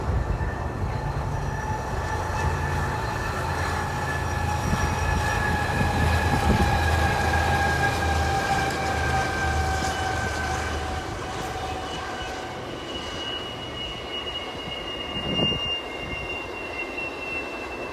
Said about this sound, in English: we witnessed 3 eastbounds haul over the Spoon River